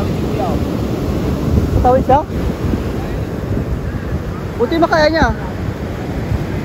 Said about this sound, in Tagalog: Napakalakas talaga ng alon, no?